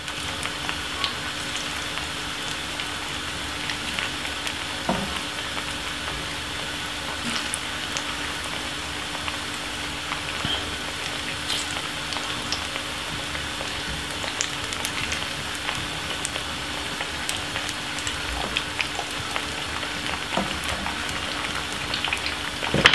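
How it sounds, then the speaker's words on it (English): Plantain frying in a pan: a steady, even hiss and crackle of hot oil with scattered small pops, constant throughout and unbroken by voices. "So we're gonna fry this, and one side gonna get brown and nice, and the other side we turn it over."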